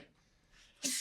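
A single sneeze bursts out near the end, loud and close, a sharp broadband burst after a quiet stretch of faint room noise indoors.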